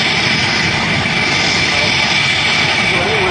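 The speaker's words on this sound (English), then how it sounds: "The jet is now powering forward." A jet aircraft engine powers forward with a loud, steady roar and a sustained whining tone, continuous and close throughout.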